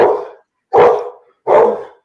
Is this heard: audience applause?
no